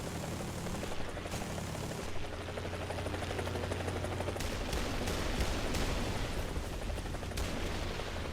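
Helicopter guns firing in the War Thunder video game, a dense, continuous stream of rapid shots over a steady rotor and engine drone, loud and unbroken for the whole stretch.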